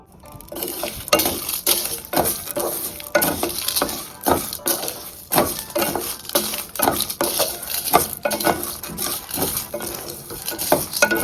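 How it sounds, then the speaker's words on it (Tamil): Chutney ingredients frying in a pan, with steady sizzling under frequent metallic clinks and scrapes of a spoon stirring against the pan, close and fairly loud, no voices. "இந்த பேனில் உங்களுக்கு காட்டின இந்த பொருள் எல்லாத்தையும் போட்டு ஃப்ரை பண்ணுங்க"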